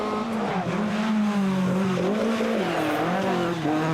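A rally car at full speed on the Donegal Harvest Rally, its engine loud and close with rising and falling revs and a brief tyre squeal, no voices.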